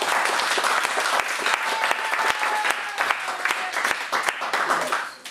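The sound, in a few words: congregation applauding and acclaiming the Lord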